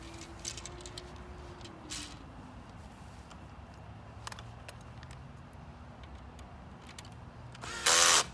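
Power tool tightening bolts on a metal net frame during assembly, with short whirring bursts and clicks over a low hum, ending in a louder sustained buzz.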